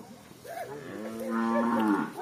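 Cattle held in a portable pen set up for mass vaccination give a drawn-out, rising moo nearby, loud and clear over a quiet background, with no talking.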